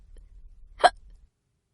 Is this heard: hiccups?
yes